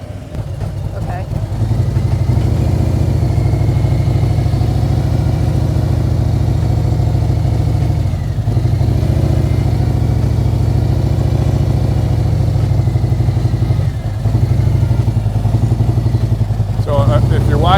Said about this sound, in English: you're seeing the RPM stay up until I stop, and then they come down when I let that clutch in a little bit